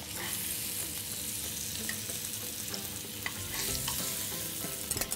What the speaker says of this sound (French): On prend les endives, on les retourne bien.